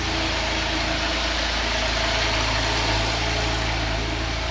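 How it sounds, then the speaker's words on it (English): A Porsche 997 Targa 4S engine idles on a cold day, its steady low rumble continuous and close with a faint mechanical vibration and no pauses. "the engine rev should settle down after around a minute or so"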